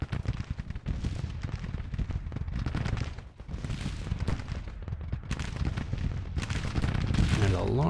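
Cannon and rifle fire from a Grand Tactician: The Civil War battle, a dense rolling barrage of overlapping reports and booms, loud and continuous throughout with brief dips.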